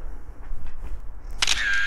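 Camera shutter firing once at 1/320 second, a quick bright mechanical snap with a short whirring tail after a moment of quiet room noise.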